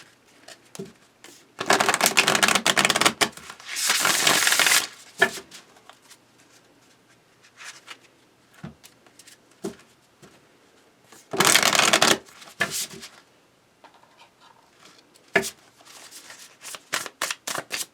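Tarot cards are shuffled close up in several brisk riffling bursts, separated by quiet stretches with soft taps and handling noises.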